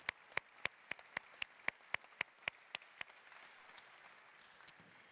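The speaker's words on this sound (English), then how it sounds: "Give him a round of applause" At a Renault Sport Formula One Team car launch, a single person claps about a dozen times in a quiet, evenly spaced run, and a few softer, scattered claps follow.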